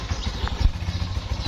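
A motorbike engine putters nearby in a quick, uneven chug of mid-pitched pulses, heard close and fairly loud for a brief moment.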